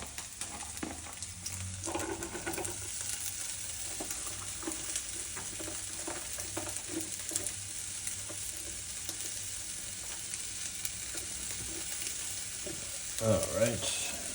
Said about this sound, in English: I'll do the peppers and onions and throw them in with the potatoes